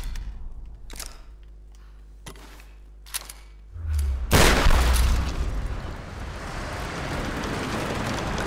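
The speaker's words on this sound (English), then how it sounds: "Shotgun should do the trick" In the Tomb Raider video game, a few sharp clicks come first, then a loud shotgun blast booms and leaves a broad, noisy rumble that lingers to the end.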